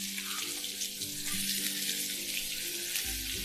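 Sliced onion and curry leaves sizzle in hot oil in a pan while kande pohe is cooked, a continuous close hiss with a faint low hum underneath.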